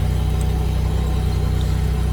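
A Ford Mustang 5.0 V8 idles roughly and loudly nearby, with a steady low throbbing rumble and a faint pulsing beat, and no voices.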